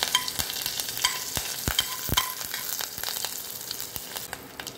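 Mustard seeds, cumin and torn curry leaves fry in hot oil with a steady hiss and a scatter of sharp pops and crackles, near and fairly quiet with no voices.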